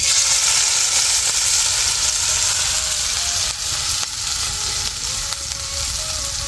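Ground spice paste (vatan) sizzling and frying in hot oil, a steady loud broadband hiss with faint stirring scrapes throughout, no talking.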